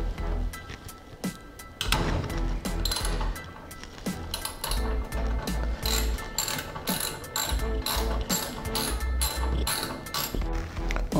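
A wrench loosens the injector nozzles on a Consul gas stove being converted to piped gas. It makes rapid, close metallic ratcheting clicks and clinks that repeat almost continuously, with no talking.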